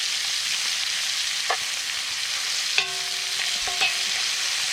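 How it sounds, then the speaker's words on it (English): Onion and breakfast ingredients frying in a pan over a camp setup, a steady broadband sizzle throughout with occasional stirring scrapes and light clinks of a utensil against the pan, fairly close and with no talk. "So we're going to get this all browned up in the next, 10 minutes or 5 minutes, whatever it takes us."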